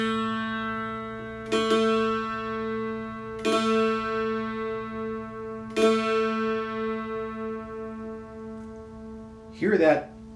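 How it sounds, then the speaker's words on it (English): Mountain dulcimer strings, slightly out of tune, are plucked three times and left to ring, each sustained tone wavering with a slow wah-like beating as it fades, followed by a brief strum at the end. "Hear that wah wah wah wah wah going on there?"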